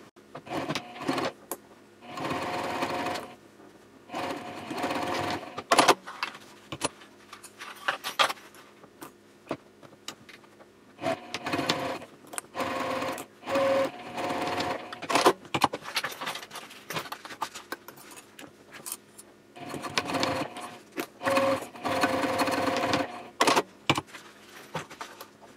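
Sewing machine stitching fabric seams of a sling at a 3/8 inch seam allowance and 3.0 stitch length, running in repeated bursts of rapid whirring stitches with pauses between, close and moderately loud.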